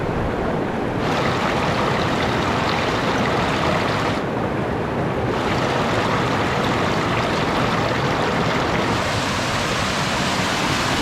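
A mountain stream on a hiking trail up Mount Fosthall in the Okanagan, the last drinking water source, rushing loudly and steadily in a dense, unbroken roar of flowing water.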